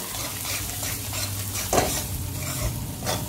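Spices with salt and garam masala sauté in a hot pan for chawli usal, a steady close sizzle with a spoon stirring and scraping, including one sharper clink partway through.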